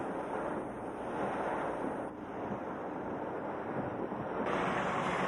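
Strong typhoon wind and driving rain roar steadily in Ilagan, Isabela, during Typhoon Nesat (Pedring), with a continuous broadband rush of gusts and heavy rainfall and no voices.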